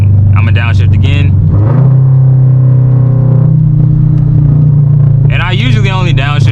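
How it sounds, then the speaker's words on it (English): A car with paddle shifters downshifting, its engine holding a steady low drone that rises in pitch as revs climb, with someone talking before and after over the close, loud engine. "I'm gonna downshift again."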